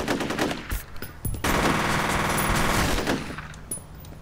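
A sustained burst of rapid machine gun fire in the game F.E.A.R., loud and close, lasting about a second and a half, preceded and followed by scattered single shots and game effects.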